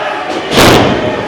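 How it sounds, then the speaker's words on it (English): A wrestler's elbow drop hits the ring mat in a single heavy, booming thud midway through, with arena crowd noise around it. "Big elbow drop from Tommy Harttt"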